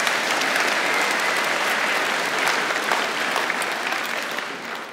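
Church audience at an Easter singing event in Veenendaal giving steady, dense applause, many hands clapping together and fading slightly toward the end, with no talk.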